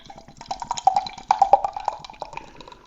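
Non-alcoholic lager pours into a Moretti glass, a quiet run of liquid splashes and fizzy gurgles with irregular bursts that fade toward the end.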